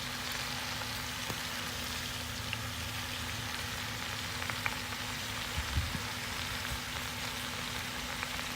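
Red onions cooking in a pan for a marmalade, giving a steady low sizzle and crackle with occasional small pops, even and moderately quiet throughout.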